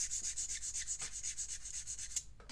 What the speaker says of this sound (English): The other benefit of using a coarser sanding stick on these joints